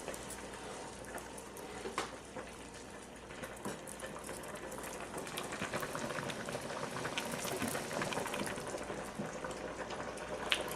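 Spaghetti noodles boiling in a pot on a home stove, a continuous dense bubbling and fizzing that stays steady and close, with occasional small clicks and no voices.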